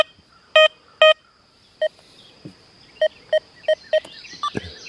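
Deus 2 metal detector fitted with an HF2 coil sounding off on a nickel, giving a run of short, sharp, clear beeps in an irregular rhythm, close and alone, with a faint steady hum behind them.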